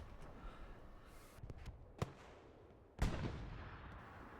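Self-propelled artillery shells land in Hell Let Loose on the Mortain map: a sharp blast, then a second, louder impact about a second later that trails into a low rumble over faint background noise.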